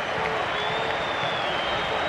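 A stadium crowd at a 2008 World Cup qualifier between Argentina and Uruguay applauds Riquelme as he is substituted, a steady, far-off wash of clapping and crowd noise with a commentator's voice over it.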